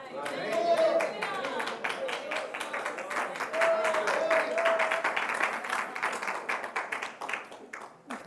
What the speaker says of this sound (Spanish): ¿Es para el Señor ese aplauso?